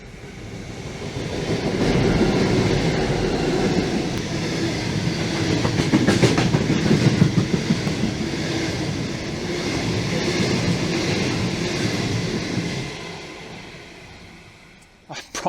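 A train rumbles through Gunning station at close range, wheels clattering rhythmically over the rails for most of the stretch before the noise fades away.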